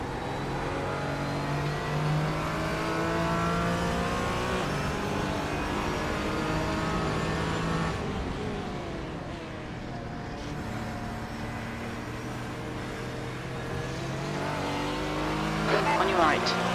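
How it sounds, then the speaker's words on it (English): A race car engine roars steadily at high revs during the Nurburgring 24 endurance race, with gear changes and rising pitch as the car accelerates, loud and close throughout. "There's a faster car approaching."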